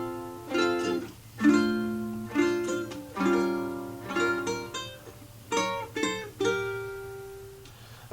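Clean electric guitar plays a slow passage, strummed chords and sustained two-note shapes in a steady sequence with gentle slides, moderately quiet and alone over a faint low hum.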